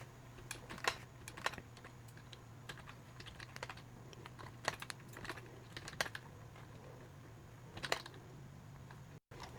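Steady typing on a computer keyboard while entering state abbreviations for Morse code practice, with irregular close key clicks in bursts over a constant low electrical hum.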